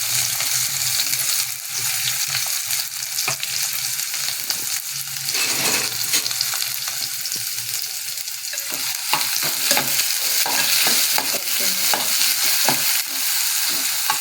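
Onion and tomato sauté in a pan with mustard seeds, garlic and curry leaves for a Konkan wet-cashew vegetable dish, giving a steady loud sizzle broken by frequent scraping stirs and clinks of the spoon, with no talking.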